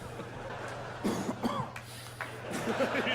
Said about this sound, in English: I like the cough.